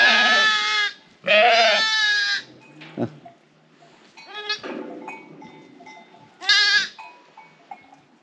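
Several loud, close goat bleats in bursts, two long ones back to back at the start and more later, with quieter bleats and clatter between.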